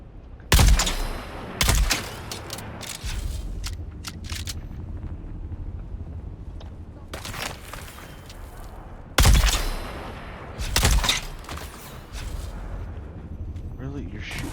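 Gunfire in the online survival game Dune Awakening, with sharp, loud shots and short bursts coming in two clusters over a steady background rumble, while a voice talks in between.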